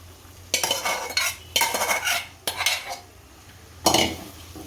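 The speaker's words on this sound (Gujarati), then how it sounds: "આને હલાવી નાખશું." A spoon stirs urad dal curry in a metal pan in four bursts of scraping, rattling strokes, with short pauses between them and the last stroke brief.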